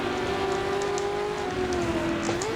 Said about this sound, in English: the outside engine sounds when you're racing against the cars